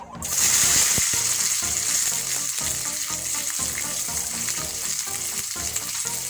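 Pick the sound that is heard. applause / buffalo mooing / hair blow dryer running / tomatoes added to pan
tomatoes added to pan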